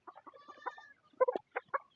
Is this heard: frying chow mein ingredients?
no